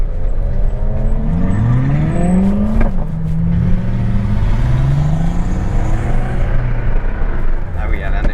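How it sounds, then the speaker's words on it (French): A car with a loud, freely flowing exhaust roars close by, its engine note rising and falling in sweeping pitch as it accelerates past, with voices talking over it. "elle a un échappement un peu libéré"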